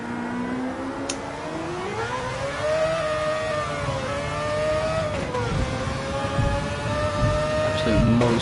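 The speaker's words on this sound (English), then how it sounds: "Monster of a car getting the power down." A powerful race car in a sim-racing league video game accelerates hard, its engine whine climbing and dipping through gear changes in a loud, continuous drone lasting several seconds.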